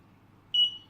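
A single clear electronic beep from a wireless wall touch switch pairing, high-pitched and steady, sounds for about half a second against near silence.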